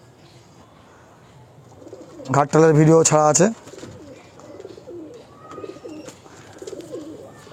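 An old Andhra pigeon gives one short, loud, throaty cooing call close by, with someone speaking quietly around it.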